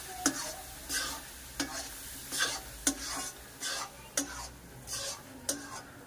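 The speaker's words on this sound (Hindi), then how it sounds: "अब गैस थोड़ी सी तेज कर दी है, और ये देखिए अब हलवा बन के हो जाएगा तैयार।" Besan halwa cooking in a pan over a gas flame gets stirred with a utensil, giving about eight regular scraping strokes, close and fairly loud, over a light sizzle with no voices.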